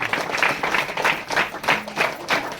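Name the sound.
wedding guests clapping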